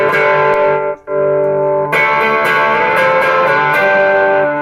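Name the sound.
electric guitar with fuzz distortion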